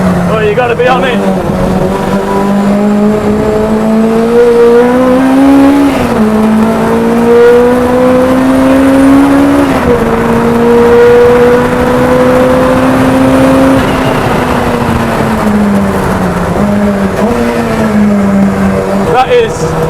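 Rotrex supercharged K20 Honda engine in a 350bhp Renault Clio pulls hard on track, its loud, steady engine note rising and falling through the gears with a whining supercharger, while a driver talks over the noise throughout.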